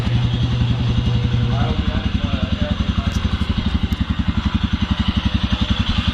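Brand new Royal Enfield Scram 411 motorcycle running for the first time, its single-cylinder engine idling close up with a steady rapid thumping pulse; someone talks over it at the start.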